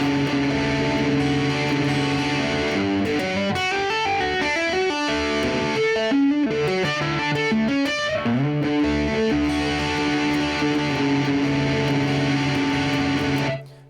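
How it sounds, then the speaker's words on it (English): Electric guitar tapping sections ring out in fast, bright cascades of tapped notes over distorted sustained tones, loud and continuous for about fourteen seconds before cutting off. "different tapping sections. So they sound like this."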